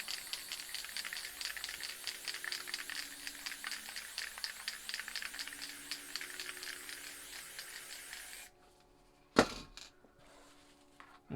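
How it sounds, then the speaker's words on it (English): A spray paint can sprays black onto a piece of card in rapid, rattling pulsed bursts for several seconds, close and fairly loud, then stops, followed by a single sharp clack and a few soft handling noises. "we're just going to spray some black onto the card"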